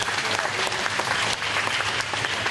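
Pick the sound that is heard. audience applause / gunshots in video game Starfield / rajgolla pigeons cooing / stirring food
audience applause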